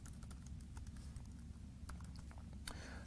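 Quiet keystrokes as code is typed on a computer keyboard, a steady patter of soft clicks with a few sharper taps over a low background hum.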